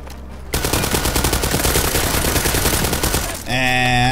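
Rapid automatic gunfire from a BERYL 762 rifle in the shooter game World War 3, a loud sustained burst lasting about three seconds, followed by a ringing tonal game sound.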